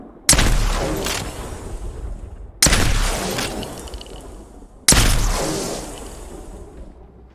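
Peacekeeper shotgun from Apex Legends fires three loud blasts about two seconds apart, each a sharp boom with a long decaying tail.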